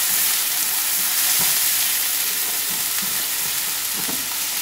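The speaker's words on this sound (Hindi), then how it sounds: "इसमें हम डाल देंगे ये चॉप्ड अनियन, थोड़ा सा सोते करने के बाद" Chopped onions sauté in a hot pan with a dense, steady sizzle, broken by a few soft clacks and scrapes as they are stirred, close and with no voices.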